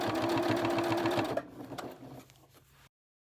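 A domestic sewing machine stitches fabric along curves while piecing a quilt-style project, a fast, even mechanical whir up close for over a second before it slows, falters and stops, leaving faint handling noises.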